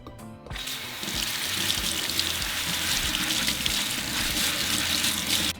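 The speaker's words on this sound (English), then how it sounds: "now we're just going to rinse our lentils with fresh water" Tap water runs steadily into a sink as lentils are rinsed, a continuous loud splashing and gushing that starts after a short clatter and continues throughout without talk.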